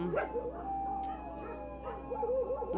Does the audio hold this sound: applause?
no